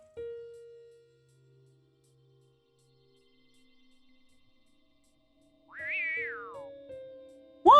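An anime cat lets out a short rising-and-falling meow near the end, loud and clear after a stretch of near silence broken by a low steady tone and faint electronic sounds.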